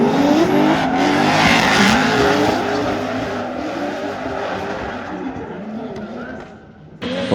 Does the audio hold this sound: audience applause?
no